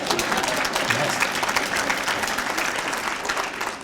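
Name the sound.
audience applause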